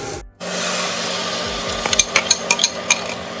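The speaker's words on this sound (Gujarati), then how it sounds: "હવે આની અંદર જ આપણે ચટણી મિક્સ કરી દઈશું" Soaked urad dal stirred into coconut chutney in a pan, a steady low sizzle followed by a quick run of about six sharp spoon scrapes and taps, close, no speech.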